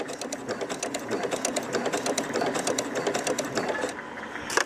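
A sewing machine stitches fabric for heart-shaped coasters in a steady, fast mechanical chatter, pausing briefly near the end before a final short burst.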